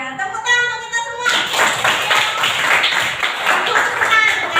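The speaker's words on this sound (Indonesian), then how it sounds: "Ya, tepuk tangan untuk kita semua." A school class claps hands together after a lesson on compound sentences, a brief tonal sound giving way to a busy, close burst of many children clapping that continues loudly to the end.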